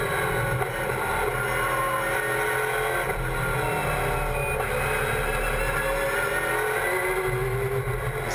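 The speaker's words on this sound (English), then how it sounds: "just love the sound of these V8 touring cars getting out of corners" V8 touring cars at an Australian racing circuit accelerating hard out of corners, a continuous loud engine roar that holds steady throughout with no talking.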